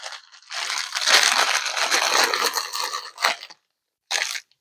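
Crinkly plastic packaging being opened during an unboxing of a yarn haul, loud close crackling and crushing for about three seconds, then a short burst after a brief silence.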